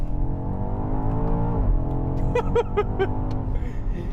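A 2020 BMW X5M Competition SUV engine revs up with rising pitch, a shift break, then climbs again under strong acceleration, with a few short chime-like tones partway through.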